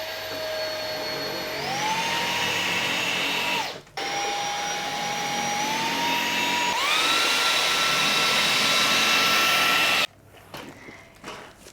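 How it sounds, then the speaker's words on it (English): Roborock H6 cordless vacuum cleaner on its lowest setting, a loud steady motor whine that rises in pitch, cuts out briefly, resumes and climbs again, then stops abruptly near the end leaving faint handling noise. "off we go, we're on the lowest setting, and I'm going to do one line to show you exactly how well it sucks"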